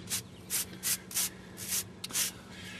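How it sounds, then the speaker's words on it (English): A whisk broom brushes the mortar joints of a brick mailbox in about seven short, even strokes, each a close, crisp scratchy swish with brief pauses between. "take a little whisk broom and... Yes, just brush each joint nicely"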